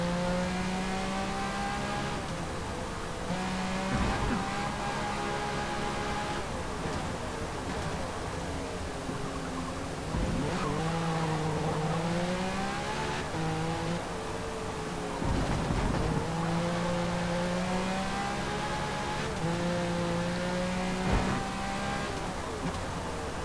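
A Porsche race car in Forza Motorsport revs hard, and its engine pitch drops repeatedly as it brakes and downshifts into corners. The close, loud, continuous engine drone swoops up and down in cycles.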